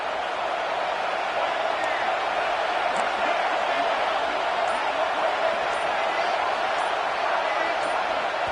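Stadium crowd roaring in a College Football 26 video game, a dense sustained wall of crowd noise with no breaks, loud and even throughout.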